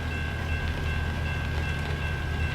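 Train passing in American Truck Simulator, a continuous rumbling roll of rail cars with a steady high whine running through it, unbroken and fairly loud, no voices.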